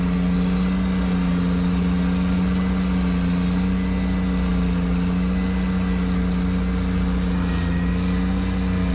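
A tracked machine's engine holds a loud, steady rev while installing an underground river, one track spinning without grip, a constant close drone with no pauses and no voices.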